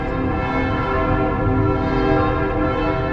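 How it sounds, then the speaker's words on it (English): Church bells clang loudly from a nearby bell tower in Soissons, a dense, continuous peal of overlapping strikes with heavy ringing resonance throughout. "It's the bell tower."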